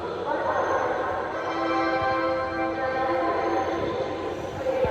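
A train rumbles into a station with a steady rolling drone and a sustained tonal hum, heard fairly near amid ambient platform noise.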